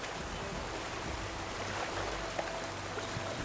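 A waterfall in the game Horizon Forbidden West, a steady broadband rush of falling water, even and continuous, heard alone.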